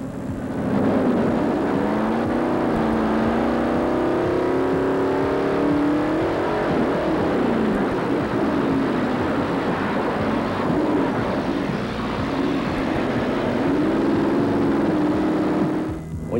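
Bigfoot monster truck engine roaring and revving continuously during a jump at an Indianapolis performance, a loud steady drone with rising and falling pitch sweeps heard from inside the cab.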